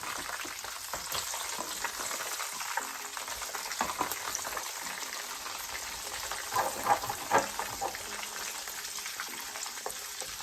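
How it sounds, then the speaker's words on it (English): Red and green peppers and onion fry in a pan with a steady, fairly quiet sizzle and crackle, broken by a few light stirring scrapes; no one speaks. "Now I'm going to fry this red and green pepper and cut it into pieces, and the onion."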